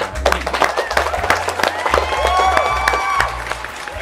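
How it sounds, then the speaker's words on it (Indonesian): A small studio audience at a business podcast recording gives a brief burst of sharp, separate claps over a steady musical bed, then settles. "Beri tepuk tangan."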